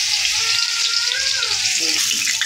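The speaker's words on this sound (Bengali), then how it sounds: "এদিকে রসুনটাও ভাজা হয়ে গেছে" Garlic frying in hot oil in a Bengali home kitchen, with a steady close sizzle that runs the whole time and a few faint clinks and stirring sounds.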